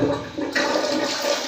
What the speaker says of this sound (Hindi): फ्लश खोलते हैं।